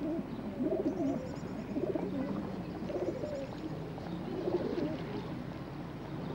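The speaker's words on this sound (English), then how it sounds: "The wood pigeon, too, will woo its mate amongst the crowds of lunchtime strollers in the city." A wood pigeon coos in a London park, its soft repeated phrases rising in a few gentle bouts over quiet background murmur and faint chirps.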